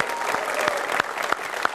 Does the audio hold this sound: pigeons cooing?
no